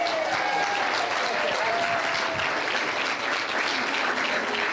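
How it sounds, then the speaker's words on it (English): A church congregation claps together in steady, dense applause, filling the room evenly at a moderate distance for several seconds. "Now we can clap."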